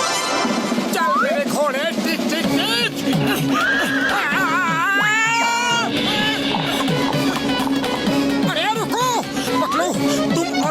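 Cartoon horse neighing and whinnying repeatedly over a busy, music-filled soundtrack, with several loud wavering whinnies spread across the scene and some faint hoof clatter.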